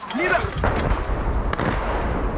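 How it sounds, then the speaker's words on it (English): Explosions and artillery fire in a war zone in Irpin, near the capital, come as several sharp booming impacts spread across the moment. Some voices and a rising whine are heard around them. "Incoming missiles send men, women, and children scrambling to get away, even as explosions ring out."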